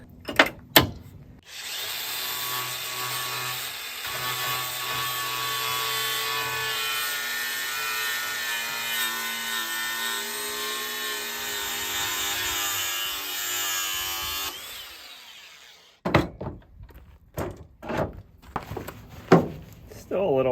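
Bench grinder working a chipped chipper knife blade: a steady, loud, high whining grind held for about thirteen seconds, then spinning down, with clanks and handling noise after.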